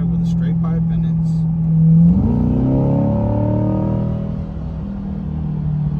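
A 2023 C8 Corvette with a FabSpeed exhaust, X pipe and straight pipe idles loudly up close, then revs with a rising, deep rumbling growl and settles back to a burbling idle. People talk over it.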